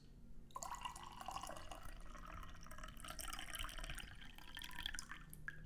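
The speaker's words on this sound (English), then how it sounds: "So we're gonna pour the second infusion out now" Tea pours steadily into a cup, a soft continuous trickle and splash with faint glassy clinks, fairly quiet and close; a second infusion of white tea brewed with warm water.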